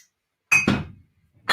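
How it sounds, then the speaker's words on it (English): Whiskey bottles clink together in two quick glassy knocks close up, followed by a short resonant ring that fades, with another clink starting at the end. "I have bottles everywhere. I'm so sorry if you hear all this clinking."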